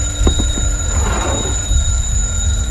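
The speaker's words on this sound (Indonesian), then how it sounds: "dia menemukan alarm dari waker berbunyi" An electronic alarm clock rings with steady, high, piercing tones, loud and unbroken throughout, with a few faint clicks near the start.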